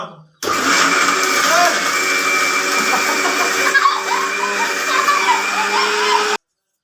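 A mixer grinder whirs loudly and steadily, grinding coconut with a high motor whine for several seconds before cutting off abruptly.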